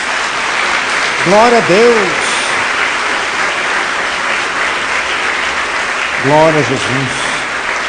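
A church congregation claps in steady applause throughout, while a preacher's voice rings out twice over the clapping with short exclamations of praise.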